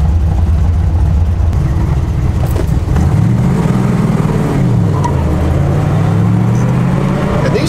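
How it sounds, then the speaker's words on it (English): A 1970 Corvette LT1 V8 idling loudly through a cold start, a deep steady rumble with a fast idle that rises and dips in slow swells midway, close and continuous with no talk. "This is a full-blown cold start."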